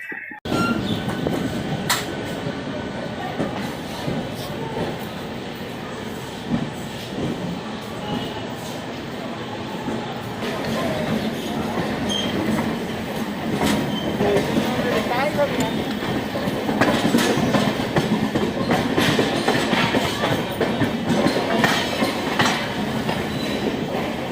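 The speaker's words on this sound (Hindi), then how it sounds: "एक मिनट की देरी से हमारी ट्रेन जो है वो डिपार्चर ले रही है खड़गपुर रेलवे स्टेशन से" Barbil Janshatabdi Express pulling out of Kharagpur railway station: a steady rail rumble and clickety-clack of wheels building slowly over time, with occasional metallic clanks and some voices in the background.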